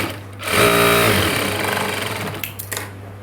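A sewing machine stitching a blouse gives a short, close whirring run of about a second, followed by quieter handling clicks as the fabric is moved.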